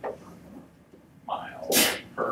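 A single sharp sneeze bursts out in a quiet room during a calculus lesson, loud and close, preceded by a brief intake of breath.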